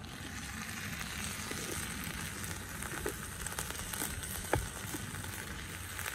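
Onion and garlic sizzle in a camp oven with dry rosemary, a steady, low-level frying hiss with faint crackles and a few small pops, no voices.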